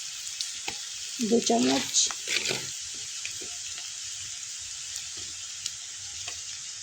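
Onions sizzle in a pan, browned for a cauliflower bhaji, a steady high hiss through the whole clip with a brief stretch of speech early on and a few light clicks of stirring.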